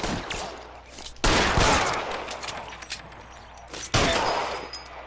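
Gunshots in L.A. Noire crack out as two loud, sharp blasts a few seconds apart, each followed by a decaying echo over lower-level scattered noise.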